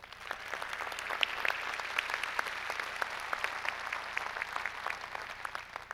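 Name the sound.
audience applause at county event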